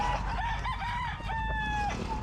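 Chickens and a rooster at a street pet market: a rooster crows a drawn-out call through the middle while hens cluck around it, close and clear over a low background murmur.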